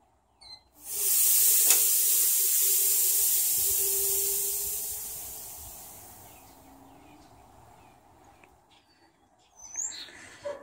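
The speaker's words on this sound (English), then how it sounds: "I always crack these open to get rid of the residual pressure in the lines." Compressed gas from an oxy-acetylene torch set's hoses rushes out in a loud, steady hiss when the lines are bled, starting abruptly, then tapering and fading over several seconds, with faint clicks and small sounds near the end.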